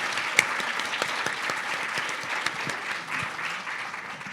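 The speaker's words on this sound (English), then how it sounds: "Can we get one more round of applause for the incredible work done by this group?" Panel audience at an ICAM event breaking into steady, dense applause, many hands clapping together at an even level from start to finish, with a few sharper claps standing out near the front.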